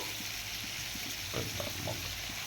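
Bay leaf, cinnamon, cardamom and other whole spices sizzle steadily in hot oil in a kadai at the start of a chicken biryani, with a brief stirring scrape partway through.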